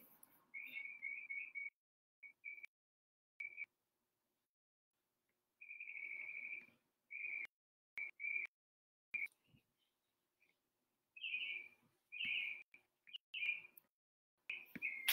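Birds chirp outdoors on a fine day through an open window, a scatter of short, clear whistled calls and trills in bursts, moderately faint, with quiet gaps between.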